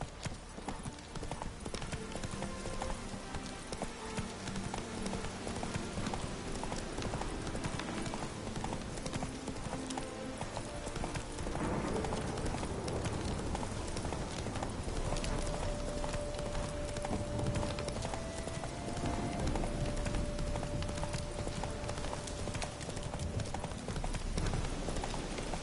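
In The Witcher 3, the horse Roach gallops with a fast, continuous clip-clop of hooves, loud and close, over a dense game soundscape with music and a sustained tone later on.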